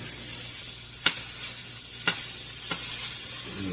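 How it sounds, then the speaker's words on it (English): Beef pieces sear in a pot on an electric stove, a close continuous sizzle with three brief knocks of a utensil against the pot, no talking. "Now these starting to sear. They're getting that crust on them."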